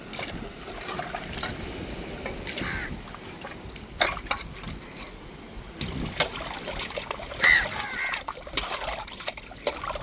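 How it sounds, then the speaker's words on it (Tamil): Crabs rinsed in water for a curry, with splashing, trickling and sloshing, close and moderately loud, plus occasional knocks and light background sounds. "பாருங்க நம்ம கடை தண்ணியிலே நல்லா அலசி எடுத்தாச்சு"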